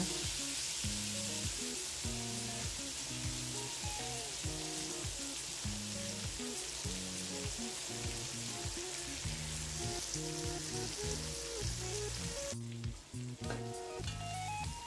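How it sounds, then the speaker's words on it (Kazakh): Onions sizzle and crackle steadily in hot oil, a constant frying hiss with occasional stirring noises, no talking. "сосын пиязды жақсылап қызартып қуыратын боламыз"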